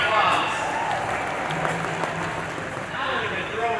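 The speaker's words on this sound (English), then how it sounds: "So give yourselves a big round of applause." A crowd applauds at the Busch Gardens Tampa 60th anniversary media event, a steady wash of clapping that holds throughout with voices mixed in.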